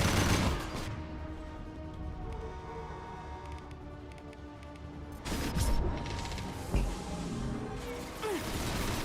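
Weapons fire in Mass Effect 2 rattles through a dense combat soundscape, with a heavy opening burst, sustained rumbling battle noise, then sharp louder shots and impacts in the second half.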